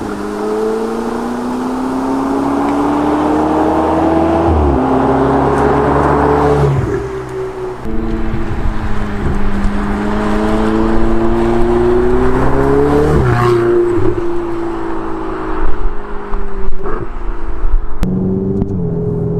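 Ferrari 488 GT3 race car engine accelerating hard at full throttle, a loud continuous rising engine roar near the microphone with audible gear shifts and brief drops in pitch between climbs, heard alone without talk.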